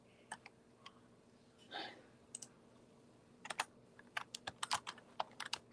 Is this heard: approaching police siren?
no